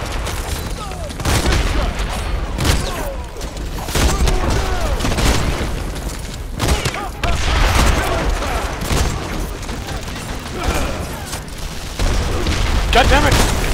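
Gunfire in The Expendables 2 video game, repeated bursts and booming shots with explosions, dense and loud throughout, with someone talking over the action.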